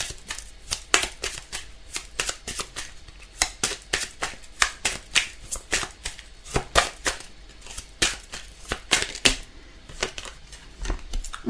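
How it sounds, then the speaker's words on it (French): Tarot cards are shuffled and drawn, giving a quick irregular run of crisp, close snapping and riffling flicks with brief pauses, loud against a quiet background with no talking. "on va tirer 3 petites cartes"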